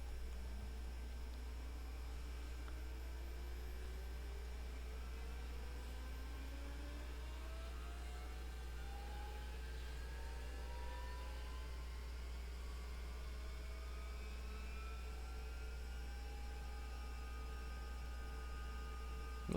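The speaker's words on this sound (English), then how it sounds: "Start engine number 2." Engine number 2 of an aircraft spins up in the X-Plane 11 flight simulator, a steady hum with slowly rising whining tones climbing over many seconds, faint and continuous with no voices.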